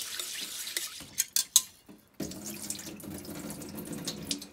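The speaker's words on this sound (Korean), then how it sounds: "쌀은 찬물에 씻으셔야 해요" Cold tap water runs steadily into a sink while rice is washed, following a few sharp clinks and clatters of kitchenware at the start; the flow is close and continuous with no talking.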